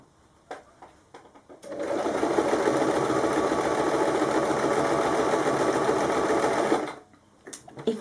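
A sewing machine stitches the seam of a kimono wrap top in one steady, loud whirring run of about five seconds, with brief clicks before and after it.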